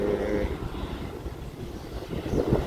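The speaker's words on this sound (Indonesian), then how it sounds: "Satu lagi pesawat Sriwijaya Air sudah keluar dari lapangan parkir" A Sriwijaya Air airliner taxis out of the parking apron at Sultan Hasanuddin International Airport in Makassar, its engines a low, steady rumble mixed with wind buffeting the microphone, moderately distant and continuous.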